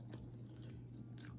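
Someone chews egg cooked in a microwave with snow crab, producing soft, close mouth and chewing sounds in a brief, quiet burst.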